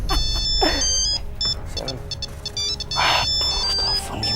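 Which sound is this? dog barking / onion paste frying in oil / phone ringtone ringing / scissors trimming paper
phone ringtone ringing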